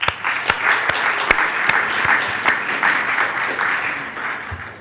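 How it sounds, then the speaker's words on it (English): Dinner guests at an association's annual general meeting and dinner break into sustained applause, a dense wash of many hands clapping with a few sharper claps standing out, steady throughout with no speech. "Let's have a big round of applause for all of us once again."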